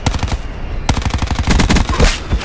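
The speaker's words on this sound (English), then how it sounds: "Fresh strafing run." Rapid machine-gun strafing fire in Call of Duty: Black Ops 4, two loud bursts of fast, evenly spaced shots separated by a brief gap.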